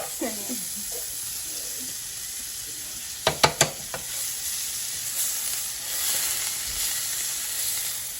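Butter melting in a frying pan for chicken quesadillas gives a steady, fairly quiet sizzle that runs throughout, broken by a few sharp clacks around the middle, with no talking.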